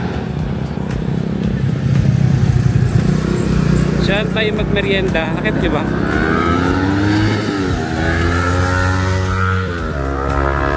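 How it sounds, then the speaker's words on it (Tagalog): A motorcycle engine hums and revs nearby, steady throughout, while people talk over it. "Ang ingay ng motor."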